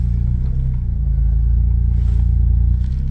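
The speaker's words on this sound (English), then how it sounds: "You might be able to hear the engine" A steady, low engine drone with a constant rumble from a rebuilt Smart car on a road test, close and fairly loud with no talk over it.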